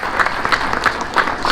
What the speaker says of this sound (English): let's give Dr. Miller a round of applause